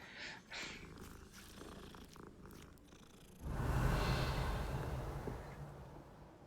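Cat in a Harry Potter video game set at Hogwarts purrs loudly and steadily up close, a continuous rumbling drone lasting several seconds after some quieter game sounds.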